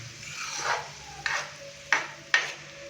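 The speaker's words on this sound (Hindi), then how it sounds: "यहाँ पे हम प्याज को तकरीबन 4 से 5 मिनट के लिए मीडियम फ्लेम पे फ्राई करेंगे" Onions frying on medium flame make a low background sizzle, cut through by several distinct scraping strokes of a spoon stirring the pan, with no talking.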